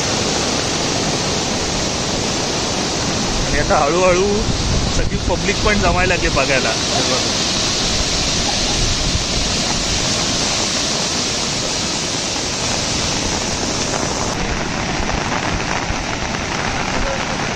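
Rushing flood water pours in a loud, steady, broad roar, while someone speaks briefly over it near the start.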